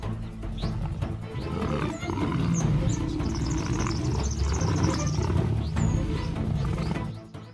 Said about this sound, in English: Low roars blend with heavy breaths.